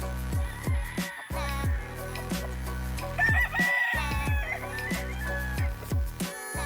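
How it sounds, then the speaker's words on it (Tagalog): Roosters crowing repeatedly and hens clucking in a cockfighting chicken breeding area on a farm in Bohol, Philippines; several loud overlapping crows rise and fall against a constant background of clucking, close by, with no talk. "where the rooster and the hen are living together and produce eggs"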